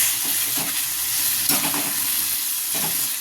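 Onions and tomatoes sauté in a pan for kara chutney, giving a steady close sizzle and hiss with a few soft stirring scrapes and no voices.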